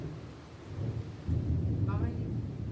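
Heavy rain hissing steadily with a low rumble of thunder swelling in partway through, a dense continuous wash of storm noise with no talk.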